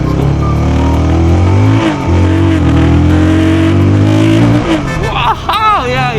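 A QJ Motor SRK 250R sportbike revs hard climbing a hill, its engine note rising and falling loud and close, with a voice talking briefly near the end.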